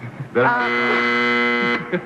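A steady buzzer tone sounds for about a second and a half, loud and continuous, with brief voices just before and after it.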